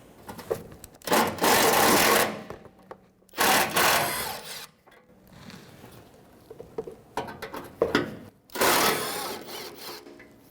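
A 10mm socket loosens bolts on a shield while an alternator is replaced on a 2005-2021 Nissan Frontier 4.0L V6. Three loud bursts of rapid ratcheting clicks are separated by quieter handling noises, close up, with no talking.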